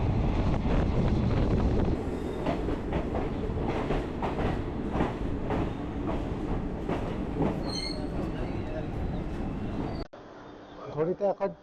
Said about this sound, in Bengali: এখন ট্রেন চলছে